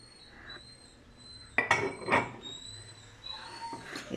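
Heavy glass crystal ware mixing bowls clinking together, two or three close bright knocks and rattles in a quiet room, with a faint clink near the end.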